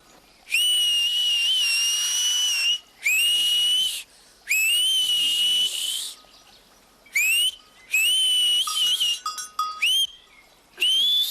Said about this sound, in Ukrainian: Я вмію свистіти, я вмію свистіти так, як хлопці.